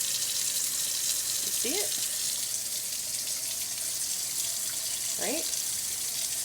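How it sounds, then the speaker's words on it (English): Tap water pours steadily into a container in a home kitchen, a constant broadband rush lasting throughout, with a few brief squeaks and someone speaking over it. "Let's get a little bit more water in there"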